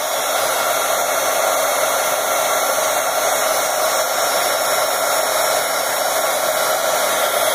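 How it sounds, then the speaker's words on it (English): A heat gun blows hot air steadily over a card, a loud, close, unbroken whooshing roar that holds at a constant level from start to finish. "I'm just going to take this and pass this with my heat gun one more time."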